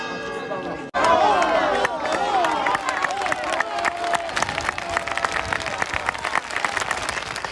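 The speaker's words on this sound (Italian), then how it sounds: "La bara bianca è stata accolta da un lungo applauso al suo arrivo in chiesa" A crowd at a church bursts into long, sustained applause as a white coffin arrives at a funeral, dense clapping holding steady and loud throughout after a short quiet start.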